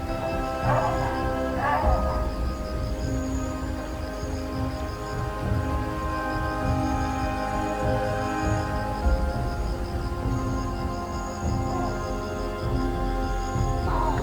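African savannah primates call out in a dense, continuous chorus of sharp barks and yelping shrieks, several overlapping bursts standing out against a steady wash of insect-like drone and background animal noise.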